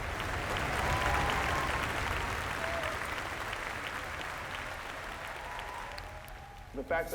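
Real concert audience clapping in sustained, dense applause that slowly fades, heard alone at moderate loudness.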